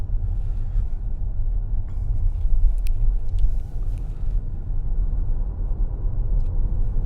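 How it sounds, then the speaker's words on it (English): A Tesla Model S 90D electric car rolls smoothly through a built-up urban area at 25–30 mph, heard from inside the cabin as a steady, low road rumble with no engine note. "this car just rolls along very smoothly"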